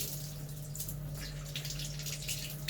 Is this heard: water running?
yes